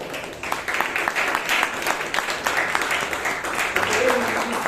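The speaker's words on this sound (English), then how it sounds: "So can we have a round of applause for a VP Education Toastmaster Chaitra?" A room of Toastmasters club members in Bangalore claps together, a steady, moderately loud patter of many hands lasting the whole stretch, with faint voices underneath.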